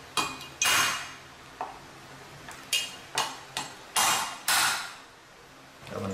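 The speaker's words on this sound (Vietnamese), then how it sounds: "Để càng cho nó bể càng." Crab claws being cracked while cleaning a sea crab for a Vietnamese seafood dish, heard as about eight sharp, close knocks and cracks with a hard utensil, spaced irregularly over a quiet kitchen background.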